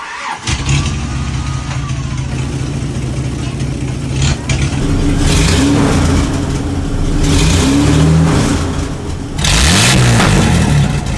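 The 3F engine of a 1989 Toyota FJ62 LandCruiser cranks, catches and roars to life, then revs hard in several rising, falling pulls over a rough idle, loud and close.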